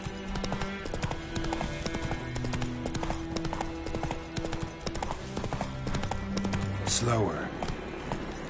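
Roach the horse galloping in The Witcher 3, with steady rapid clip-clopping hooves throughout, a short whinny near the end, and a voice speaking briefly.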